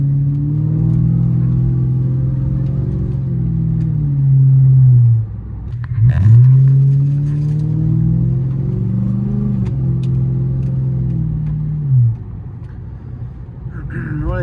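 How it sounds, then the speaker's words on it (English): A Ford Crown Victoria with a leaky exhaust rumbles in a deep, throaty idle that swells with occasional revs, close and loud, while someone talks over it. "One of these days I gotta bring my car to an exhaust shop and have them weld up all the leaks that I have."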